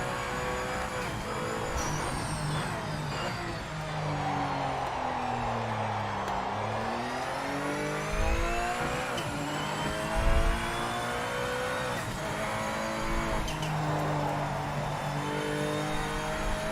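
A race car engine in Project Motor Racing revs hard under full throttle, its pitch climbing and dropping through repeated gear shifts, loud and continuous with no talking.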